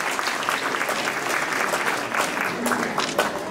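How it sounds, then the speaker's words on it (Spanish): Audience clapping at a 2019 CECE school ceremony at Colegio San Pablo in Escobar, a dense, fairly loud patter of many hands over a few seconds with some voices mixed in. "Gracias por ese aplauso, un gran reconocimiento"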